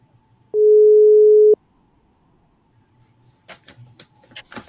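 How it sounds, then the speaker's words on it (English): A single steady telephone ring tone sounds for about a second on a radio call-in line, clear and alone, then gives way to faint rustling and clicking. "It's ringing, but it's not coming on."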